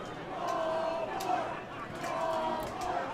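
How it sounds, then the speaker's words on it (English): A baseball crowd at an IBL finals game chants "ball four" in two drawn-out, rhythmic calls, heard fairly faintly and from a distance amid general stadium murmur. "Crowd chanting ball 4"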